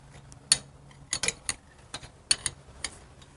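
Ratchet socket tightening rocker box bolts on an Evo engine, sparse close metallic ticks and short click bursts, irregularly spaced, with no talking.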